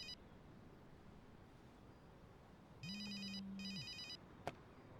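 A telephone rings in a tense crime-drama scene: a brief electronic double burst of high ringing tones over a low steady hum, followed by a sharp click, with no talk.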